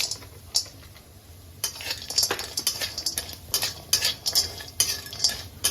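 Broken turmeric roots are roasted in a spoonful of oil in a pan, heard as repeated scraping and clinking strokes of a metal spoon over a soft sizzle, close and alone.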